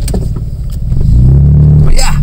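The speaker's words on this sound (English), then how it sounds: "I am out here plowing." A Jeep's engine working while plowing snow with a Boss HTX V plow, a loud low drone that swells and holds steady, with a speaking voice heard over it.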